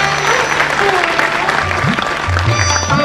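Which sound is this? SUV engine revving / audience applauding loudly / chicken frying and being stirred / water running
audience applauding loudly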